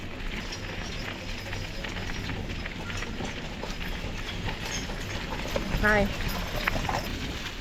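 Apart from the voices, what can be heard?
horse-drawn wagon ride passing, hooves clip-clopping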